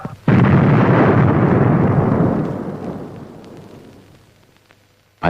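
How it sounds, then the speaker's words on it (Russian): A massive underground nuclear explosion bursts out suddenly with a deep rumbling roar, then slowly fades away over several seconds. "Подземный ядерный взрыв"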